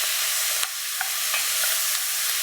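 Steady, close sizzling of vegetables caramelizing in a pan, a continuous hiss with a few small pops.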